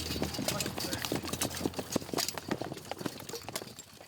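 Cavalry horses galloping on a dirt training ground at a historic western army post, with rapid, continuous hoof clip-clops, loud and close.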